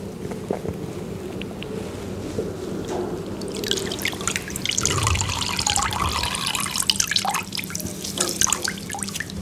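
Water sloshes and splashes as hands and face are dipped into a pool for ablution by immersion, a steady wet churning with drips that swells louder in the second half.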